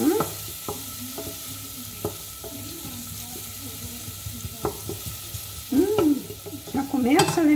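Chopped onion sizzles steadily in a pan with colorau, a red annatto seasoning, as it is stirred for a fish pirão, with spoon scrapes and clinks against the pan rising near the end.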